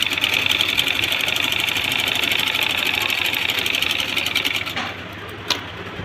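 A sewing machine stitches a blouse with a rapid, even mechanical whirr close by, slowing and stopping near the end, followed by a single sharp click.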